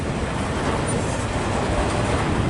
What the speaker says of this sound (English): Yeah, that's a long train.